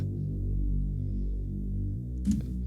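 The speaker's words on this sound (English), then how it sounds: "what's really nice on this bass is the drive on the filter here" A deep, buzzy Reese synth bass drone with filter drive holds steady and thick, shifting pitch near the end before a brief burst of noise cuts in.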